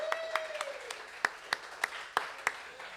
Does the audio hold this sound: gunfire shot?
no